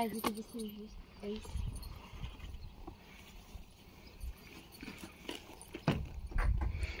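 A working horse outdoors, its hooves clip-clopping in an irregular patter, with occasional louder thuds and background voices mixed in.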